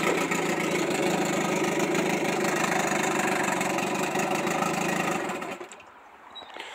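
A Montgomery Ward Sea King 12 hp outboard motor built by Gale idles low and steady with a rhythmic chugging putter, close and loud, then cuts off abruptly near the end, leaving quiet.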